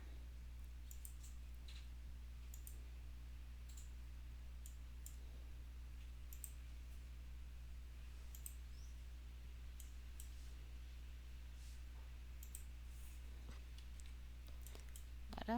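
Quiet, sparse computer mouse clicks come at irregular intervals during work in Revit software, set against a steady low hum.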